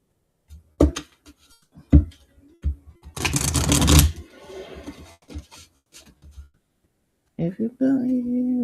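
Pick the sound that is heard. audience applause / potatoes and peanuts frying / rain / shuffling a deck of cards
shuffling a deck of cards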